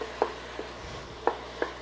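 Food browning in a pan for an egg noodle casserole, a steady low sizzle broken by a few light clicks and scrapes of stirring spaced through the moment.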